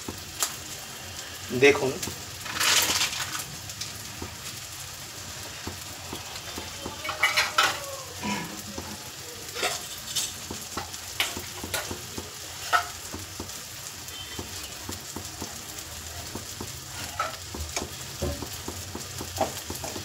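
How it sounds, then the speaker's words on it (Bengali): Amul butter melting and sizzling in a hot pan for dhaba-style egg tadka masala, a continuous fry with scattered scrapes and clinks of a stirring utensil, while a voice talks now and then. "এই পুরো বাটারটা এবার এর মধ্যে দিয়ে দেবো আমি"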